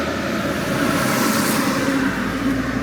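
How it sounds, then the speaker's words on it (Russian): Dense road traffic on a Crimean highway heading toward Sevastopol, a continuous broad roar of passing cars and engines, steady and fairly loud throughout with no voices. "в плотном трафике"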